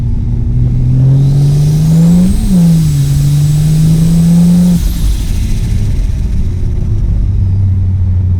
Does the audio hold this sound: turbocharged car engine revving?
yes